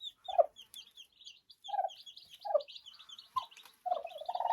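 A turkey hen with her chicks gives repeated soft clucks in short bursts at steady intervals, close by, over a constant high chorus of chick peeping.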